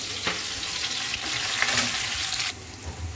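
Onions frying in a pan: a dense, steady sizzle with occasional scraping stirs, close and fairly loud, cutting off abruptly near the end to a quieter hiss; no one speaks.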